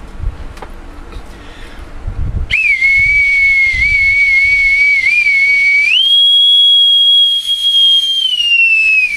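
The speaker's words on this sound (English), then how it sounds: "My authentic bosun's whistle." An authentic bosun's pipe blown loudly in a long shrill sustained note that steps up in pitch partway through and then slowly sags, after a stretch of quieter noisy background.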